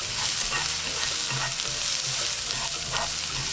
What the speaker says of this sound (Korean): 이제 대파도 볶아주고요.